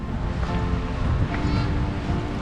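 Ocean surf rolls in steadily on a beach at Da Nang, Vietnam, with a constant wash of breaking waves and wind buffeting the microphone throughout, close and full.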